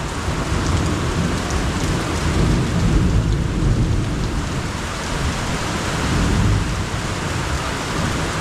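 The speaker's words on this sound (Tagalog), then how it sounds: "Uy, nakakatakot naman yung kidlat." Heavy rainstorm with thunder, a loud continuous roar of pouring rain and deep rolling rumbles swelling and fading across the whole stretch, no voices.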